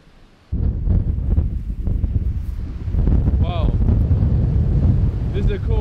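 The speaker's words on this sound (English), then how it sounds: "I'm shouting because it's really windy" Strong wind buffets the microphone outdoors at a lookout in Sweden in a steady low roar, with a voice calling out over it toward the end.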